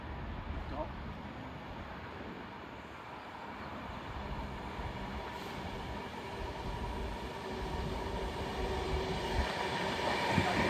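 An Avanti West Coast service from London Euston to Manchester Piccadilly arriving at Nuneaton station on the West Coast Main Line, a steady low rumble of rolling wheels that slowly grows louder as the train draws in.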